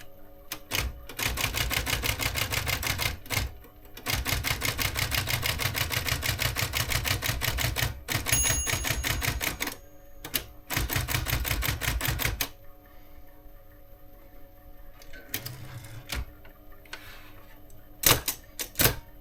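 A Japanese-made Olympia typewriter being worked up close, with long runs of rapid key strikes, a carriage return and assorted mechanical clacks, then sparser clicks and knocks after a pause.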